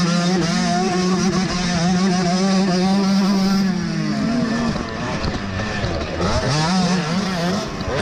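A KTM two-stroke dirt bike screams through a motocross race, its high, wavering engine note rising and falling steadily and loudly as the rider pushes hard, with other bikes blending into the racket.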